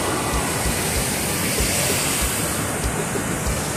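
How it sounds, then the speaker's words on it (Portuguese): Waterfalls at Praia das Lajes roar as a dense, constant wash of falling water, loud and close throughout, with a bit of wind buffeting on the microphone and no talk. "essas cachoeiras é muito bonito, muito, muito mesmo"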